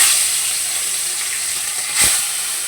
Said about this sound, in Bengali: এবার আমি মোরলা মাছগুলোকে ভেজে নেব